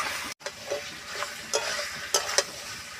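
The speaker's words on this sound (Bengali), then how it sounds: "মটন কষানো হয়ে গেছে" Mutton for a mutton and potato curry is sautéed in oil, giving a steady background sizzle punctuated by brisk spatula scrapes and stirring strokes at irregular intervals.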